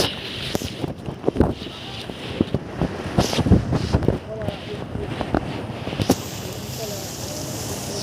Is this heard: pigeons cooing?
no